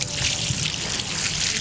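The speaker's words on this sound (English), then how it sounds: "Ooh, water going." Water pours from a bucket during a waterboarding demonstration, a loud, steady splashing gush that runs for over a second without talk.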